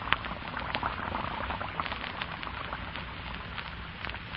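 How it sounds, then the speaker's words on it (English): Lux soap flakes dissolving under running water into a frothy mass of suds, a steady fine crackle and fizz of popping bubbles, close and continuous with no voices. "And almost at once the flakes melt into a soft, frothy mass of bubbles."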